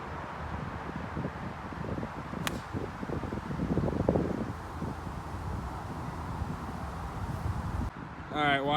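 Strong wind gusting across an open golf course, a steady close rush and buffeting over the microphone throughout, with a short sharp crack partway and some rustling near the end.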